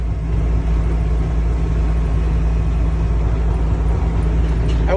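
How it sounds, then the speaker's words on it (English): A bus powered by a 7.3 Power Stroke engine drones at a steady low rumble with a constant hum from drive shaft vibration, loud and continuous from inside the cabin. "As you can hear, there's a drive shaft vibration"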